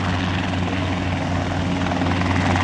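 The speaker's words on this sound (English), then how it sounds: "A helicopter with an attitude and personality" A helicopter performing at an airshow, rotor thumping in a fast, steady rhythm with a loud engine drone, close and continuous.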